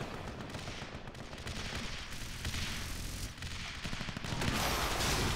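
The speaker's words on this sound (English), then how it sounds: "there's a lot of artillery here firing in for green" Artillery barrages pound away in a strategy video game battle, a dense, continuous stream of overlapping booms and gunfire rumbling at steady loudness, swelling slightly toward the end.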